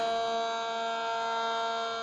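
A hockey end-of-period buzzer at a playoff conference final, blaring as one loud, steady, sustained tone held for the full two seconds with no pauses and no talk over it.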